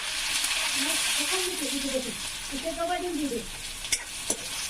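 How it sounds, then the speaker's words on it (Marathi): Chopped onion fries in hot oil in a pan, left with garlic and cumin flavour. A steady, close sizzle runs throughout while a voice talks faintly underneath. "टाकून देते आणि टाकते आता कांदा"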